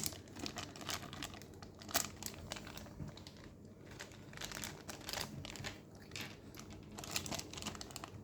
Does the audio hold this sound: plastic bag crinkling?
yes